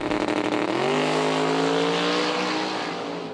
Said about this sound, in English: James Horan in the Oceania Toyota up against Mitchell Bean in that beautiful Camaro